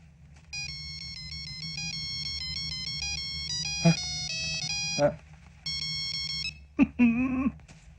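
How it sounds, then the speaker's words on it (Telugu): A phone ringtone plays a repeating electronic melody of bright beeping tones, pausing briefly and resuming, with short bursts of a voice in between. "Ring tone sir."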